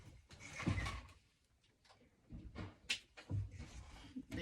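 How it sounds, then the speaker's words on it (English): An interior door being pushed shut in a quiet room, heard as a few soft knocks and thuds with faint handling noise, close and moderately loud. "Excuse me while I close my door."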